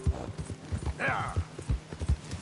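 Horse hooves clip-clopping at a gallop in the Red Dead Redemption 2 prologue, a steady rhythmic pounding close by, with a brief whinny partway through and a voice heard faintly.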